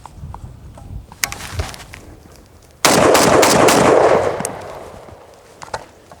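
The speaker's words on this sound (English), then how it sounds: "Last thing I'm going to do is fire 4 rounds through this rifle." An FAL rifle with a DSARMS magazine fires a quick string of loud, sharp shots outdoors, the blasts running together with echoing reverberation over a few seconds, after quieter clicks and handling noise.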